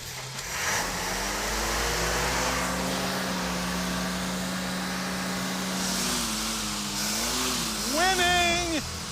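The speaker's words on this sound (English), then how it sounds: "Wide open throttle." A Plymouth Duster's engine is held at wide open throttle, a loud sustained roar close by that climbs and wavers in pitch toward the end, with people talking over it.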